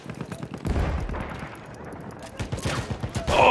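Rapid machine gun fire in the World War I shooter Verdun, a fast run of sharp closely spaced shots with brief gaps, growing louder toward the end over background battle noise.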